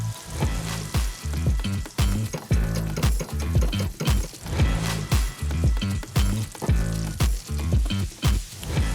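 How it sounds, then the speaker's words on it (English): Butter melts and sizzles loudly in a pan beside a pot of cooking grits, a close frying crackle with a rhythmic, pulsing scrape as it is stirred, with no talk. "gonna let this butter melt"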